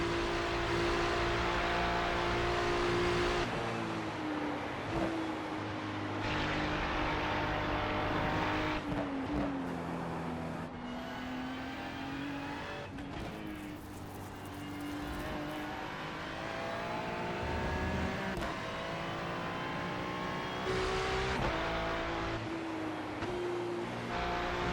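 Race cars in a racing video game scream at high revs with constant shifting pitch, dropping through gear changes and climbing again, loud and continuous throughout.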